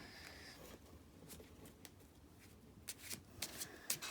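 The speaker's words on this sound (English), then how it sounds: "So they can shuffle the deck like this." A deck of playing cards being shuffled by hand, with quiet riffling and flicking bursts that grow sharper and louder toward the end, no voices present.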